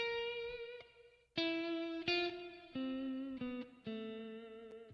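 An electric guitar through a modulated reverb effect plays sustained notes and chords with a shimmering, wavering reverb tail, each new note cutting in sharply, no talking.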